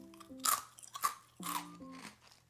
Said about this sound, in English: It is like the crunchy type of senbei, not like the flat type of senbei.